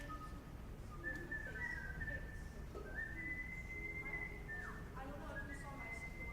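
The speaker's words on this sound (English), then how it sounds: "I could never whistle that good." Someone whistles a wandering tune, faint and a little distant, over a murmuring background with occasional voices, at Cedar Point amusement park.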